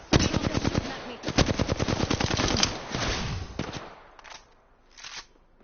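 Rapid automatic gunfire crackles in Apex Legends, loud bursts of machine-gun shots in quick succession that trail off into a few short, scattered volleys.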